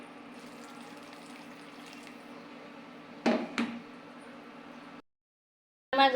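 Water runs steadily into a pot of fish and potato curry with borboti beans. A couple of louder splashes follow, then a brief silence and another splash.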